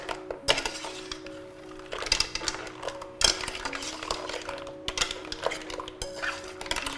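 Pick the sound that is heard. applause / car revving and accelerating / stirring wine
stirring wine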